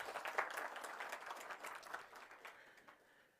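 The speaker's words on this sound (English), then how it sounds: "Let us give a round of applause." A faint, short burst of audience applause at an inauguration ceremony in Windhoek, Namibia, the clapping heard from a distance and fading out within a few seconds.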